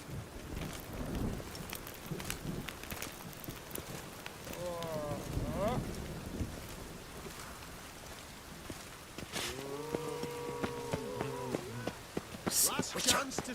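Steady rain patters under ambient game sound and occasional voices in The Witcher 3, with soft splashes and a few brief tonal chimes breaking through.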